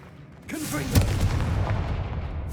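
In Hogwarts Legacy, a Confringo blasting spell fires with a swooshing launch and then a booming impact, with a crackling, rumbling tail that lingers close and loud.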